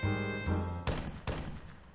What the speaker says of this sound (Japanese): 今なんか銃声聞こえなかった